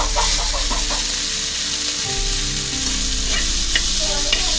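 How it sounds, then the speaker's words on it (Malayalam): Tomatoes and onion sautéing in a pan sizzle loudly and steadily up close, with spoon stirring scrapes throughout and a rooster or hen clucking faintly in the background. "അത് നല്ലപോലെ വഴറ്റി എടുക്കണം നല്ല വൃത്തിക്ക് വഴറ്റി എടുക്കണം"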